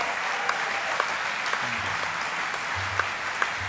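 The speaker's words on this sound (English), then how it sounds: "Give him a round of applause." An audience gives a round of applause, a steady patter of clapping throughout with a few sharper claps standing out.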